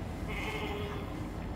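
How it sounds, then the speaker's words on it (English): A single bleat from a cloned goat in a video game, drawn out and moderately close over a steady background hum. "We just fabricated a goat using DNA."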